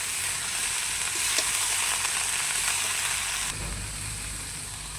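Cabbage with prawns sizzles in a pan with salt and turmeric, a bright continuous frying hiss with a few light clicks of stirring, the sizzle dropping slightly in intensity partway through.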